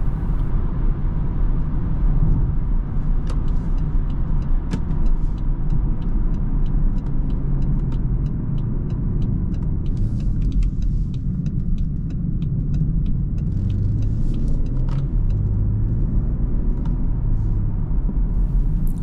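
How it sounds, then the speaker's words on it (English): A BMW 440i drives at high speed on an unrestricted German Autobahn, with a steady, loud engine and road rumble mixed with tyre and wind noise that holds throughout, without much audible change in pitch. "I'm gonna do some high-speed torque pulls on the unrestricted German Autobahn."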